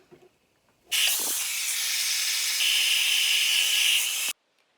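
A hair dryer switches on and blows a loud, steady whoosh over flipped-forward curly hair for about three and a half seconds, then cuts off abruptly. Quiet handling noise comes before it.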